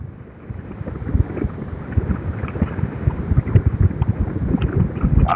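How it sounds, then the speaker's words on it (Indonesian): Strong wind buffets the microphone while riding a motorcycle along a flat coastal road in Banten, Indonesia, a continuous loud rumbling roar with gusty surges throughout. "Cuman anginnya seperti biasa ini, anginnya kenceng, lumayan."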